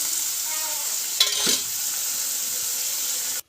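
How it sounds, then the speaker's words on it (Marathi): Spiced tadka tempering for dal, seasoned with turmeric, salt and masala, sizzles steadily in a hot pan with one brief louder clatter and burst near the middle, with no talking. "आपण मिक्स करूया आपण डाळीचा मस्त तडका देऊया"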